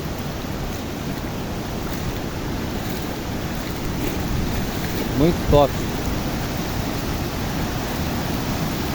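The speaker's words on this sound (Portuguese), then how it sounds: "dá uma olhada que cachoeira linda" The waterfall at Usina Toledo sends up a steady, broad roar throughout, and a person speaks briefly over it midway through.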